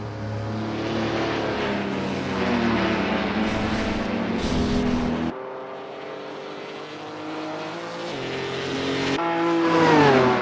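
Historic race cars in the Assetto Corsa racing game scream down a straight in the slipstream, loud engines droning and shifting pitch close together, with one car's note dropping away midway and another rising near the end.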